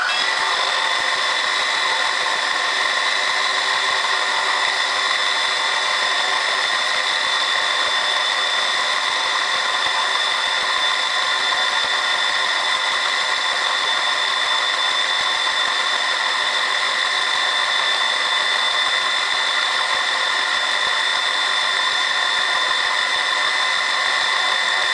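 A 1.5mm cutter milling a metal part for a model steam engine governor gives a steady, continuous high whine with no break in it, loud and close, with no voices.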